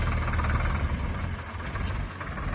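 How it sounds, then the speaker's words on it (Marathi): A tractor engine runs steadily with a low, continuous rumble throughout, heard close by on a village road under construction. "आमचा ट्रॅक्टर चाललेला आहे"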